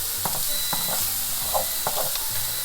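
Sausage gravy sizzles steadily in a pan while a wooden spatula scrapes across the bottom in several short, close strokes over the constant frying hiss, with no talking.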